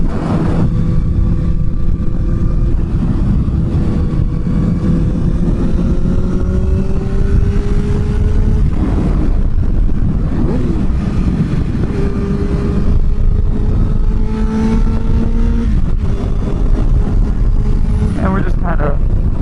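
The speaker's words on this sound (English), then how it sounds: "The motorcycle that we're riding today is my 2009 Yamaha FZ1." Steady engine drone from a 2009 Yamaha FZ1 motorcycle cruising, with gear-shift pitch sweeps rising and falling across the ride, heavy wind rush throughout and a rider talking over it.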